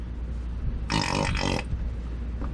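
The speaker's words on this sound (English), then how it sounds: "it'll make all kinds of farting noises and such" Plastic squeeze bottle of oil being squeezed while filling the NP242J transfer case on a 1998 Jeep Cherokee XJ, giving two short, loud, back-to-back sputtering fart-like bursts over steady background noise.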